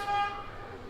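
A Royal Enfield motorcycle's horn gives one short, bright toot on a road in Ladakh, then fades into low street noise.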